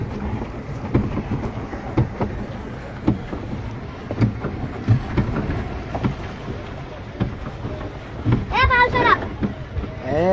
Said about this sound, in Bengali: পার্কে এসে পিচবোর্ড চালাচ্ছি পাও মেরে।